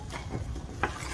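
Jamaican strong back cake mixture stirred in a bowl, soft scraping and rubbing strokes close by, ending in a sharper scrape, fairly quiet.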